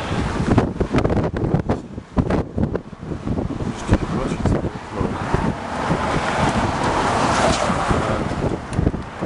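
Strong gusting wind buffets the microphone outdoors beside a stopped vehicle, a loud continuous rumbling roar with rising and falling gusts, and someone talks through parts of it.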